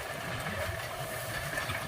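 A steady, rumbling John Deere tractor engine runs continuously, its low drone holding an even level throughout with no voices.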